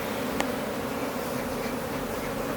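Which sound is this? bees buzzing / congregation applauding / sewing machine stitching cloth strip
bees buzzing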